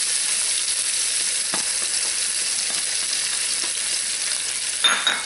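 Celery and onion fry in a pan for shrimp étouffée, giving a steady, close, dense sizzle that holds throughout, with a brief stir or rustle near the end and no voices.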